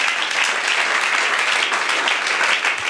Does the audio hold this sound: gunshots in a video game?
no